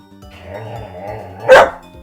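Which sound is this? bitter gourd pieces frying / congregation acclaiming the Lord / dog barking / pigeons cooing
dog barking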